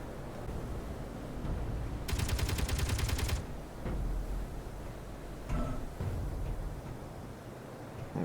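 A gun turret in Space Engineers fires a rapid, loud burst of about a second, with machine-gun-like repeating shots, set among a steady background rumble and a few scattered mechanical clunks.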